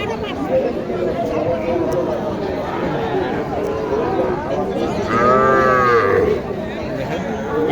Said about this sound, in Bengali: এটা হচ্ছে একটা গির বাচ্চা